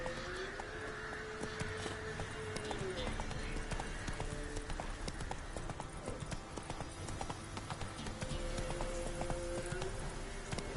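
Hooves of Roach, a horse in The Witcher 3 on PS4, trot in a steady clip-clop rhythm throughout, moderately loud against a continuous game ambience, with a voice speaking over it.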